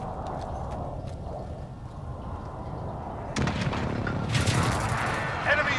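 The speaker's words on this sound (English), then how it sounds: "Enemy precision airstrike" Enemy precision airstrike explosions in a military shooter video game, booming blasts and rattling gunfire that grow louder and denser partway through, under ongoing battle noise and game radio chatter.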